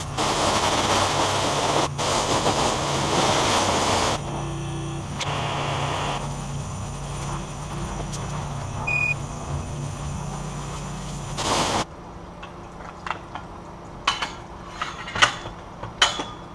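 Pressure-wash rinse spraying water over a car in a self-service car wash bay, a loud steady hiss of spray lasting about twelve seconds before cutting off, followed by quieter dripping and scattered clanks.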